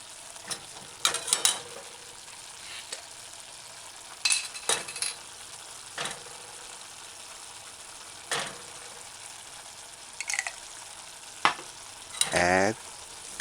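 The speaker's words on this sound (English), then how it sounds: "So stir it in a few times." Spoon stirring a chickpea, mushroom and pepper vegan stew in a pan, with repeated scraping strokes and brief clatters over a steady low sizzle, close and moderately loud.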